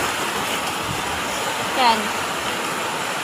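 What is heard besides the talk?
river flowing water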